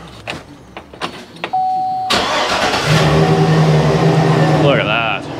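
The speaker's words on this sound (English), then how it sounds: "I think we should probably run the truck so we don't kill the battery." An old truck's engine cranks after a few clicks and knocks, catches with a loud burst, then settles into a steady, close, rumbling run. A brief whirring sweep follows near the end.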